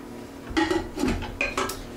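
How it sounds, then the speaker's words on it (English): A wooden spoon clatters and scrapes against a bowl and pot while tomato and roasted red pepper soup is tipped in, several short knocks and scrapes close up. "we'll just put this into the pot now. And use our old handy dandy wooden spoon"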